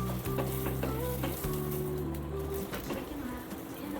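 Corn tortillas frying in a little oil in a pan give a steady, close sizzle throughout, with faint background tones and occasional light clicks.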